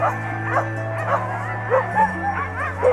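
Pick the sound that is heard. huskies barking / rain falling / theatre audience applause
huskies barking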